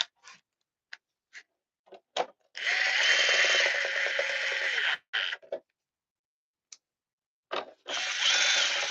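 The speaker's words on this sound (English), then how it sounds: "Put these screws back in." A power driver whirs in two sustained bursts, each a couple of seconds, as screws go back in on a Kawasaki Ninja ZX636 sport bike after a chain and sprocket replacement, with short clicks and taps between the runs.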